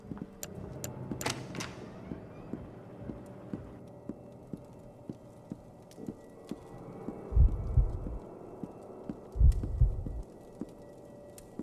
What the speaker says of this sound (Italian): Perché c'è il battito del cuore?